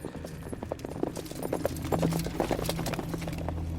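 Rhythmic clip-clop of a horse's hooves, steady and fairly close, under a low sustained musical drone, with faint speech in the mix.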